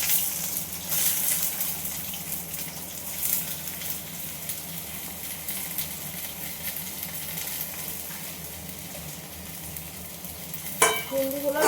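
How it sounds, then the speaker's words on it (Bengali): Ivy gourd pieces frying in oil in a wok, a fairly quiet, steady sizzling hiss that runs throughout, with a short rattling scrape near the end and no talk. "এবার কুঁদরিগুলোকে আমি একটু ভেজে তুলে নেব।"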